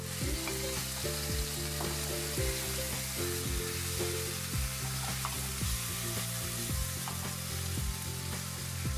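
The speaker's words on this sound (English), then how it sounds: "Add the cut tomatoes followed by the pineapple cubes and stir fry slightly." Steady sizzling of tomatoes and pineapple cubes stir frying in a hot pan, with scraping and stirring strokes from a utensil at irregular intervals, close and continuous.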